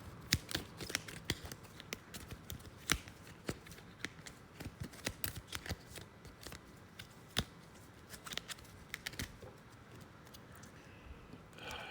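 Playing cards shuffled and drawn for a solo wargame session, a quiet run of crisp riffling snaps and sharp card clicks in an irregular rhythm, close by and with no talking.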